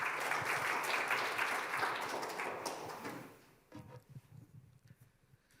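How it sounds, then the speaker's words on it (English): Audience applause at a summit event in Munich for India's Consul General, dense steady clapping for about three seconds that fades out, leaving a quiet room with scattered faint sounds. "huge round of applause for Sri Shatrughna Sinha"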